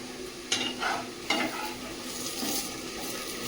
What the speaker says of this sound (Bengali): পোলট্রির মাংস একটু ভালো করে কষানো দরকার।